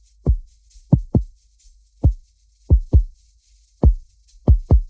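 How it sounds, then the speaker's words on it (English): Deep synth drum thumps pulse in paired beats like a heartbeat, about nine hits in a slow, slightly uneven rhythm with nothing else around. "this acts more like a heartbeat more than a regular drum sound"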